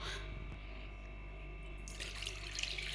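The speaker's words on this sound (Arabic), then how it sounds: "غادي نخويو الحليب ديالنا هنا" Lukewarm milk, a cup and a half, poured into a bowl for making brioche dough, a steady close liquid stream that swells louder and brighter toward the end, no talking.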